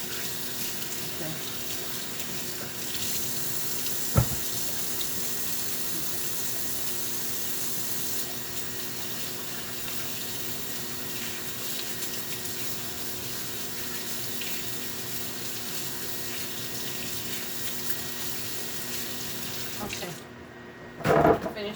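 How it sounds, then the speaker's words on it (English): A kitchen tap runs steadily as hands are washed beneath it, a continuous close splashing hiss with a single sharp knock partway through and a brief clatter as the water stops. "I'm gonna wash the hand."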